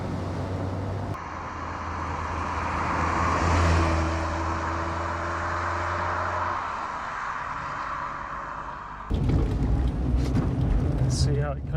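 A first-generation Mazda MX5 on slightly upgraded wheels and tyres drives along a road, its steady engine drone and tyre roar heard from inside the cabin, rising briefly before rougher road noise takes over.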